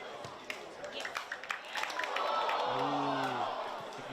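Rugby crowd at an under-18 Super Rugby academy trial match, a swelling roar of cheering and whoops after scattered claps, with a commentator's voice heard over it.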